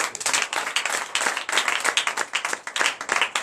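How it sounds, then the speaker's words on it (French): A church congregation claps and applauds in a dense, continuous burst of many hands, loud and close throughout. "Donnez l'acclamation à nous."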